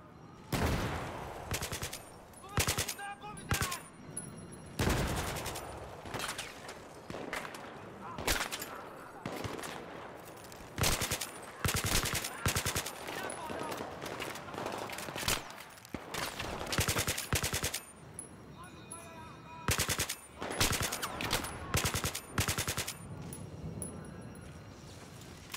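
Rapid bursts of automatic gunfire from the first-person shooter Battlefield 3, during the Uprising campaign mission, crack loudly in repeated volleys across the whole stretch with brief gaps between firing runs.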